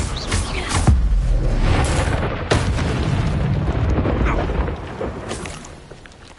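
Incendio fire spell cast in the video game Hogwarts Legacy, a few deep booming bursts with crackling fiery rumble that fades toward the end, no talking.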